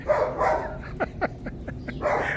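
Several dogs bark in a quick run of short, sharp yelps close by, with a softer rumble of activity before and after the barking burst.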